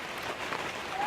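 Heavy monsoon rain falling in a Rohingya refugee camp, a dense continuous hiss of drops striking surfaces, close and steady for a moment with no voices.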